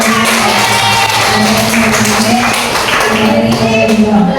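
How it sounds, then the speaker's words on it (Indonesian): Students in an Indonesian classroom clap together in a steady burst of applause, close and loud, with crowd voices mingled beneath the clapping throughout. "Tepuk tangan dulu semuanya."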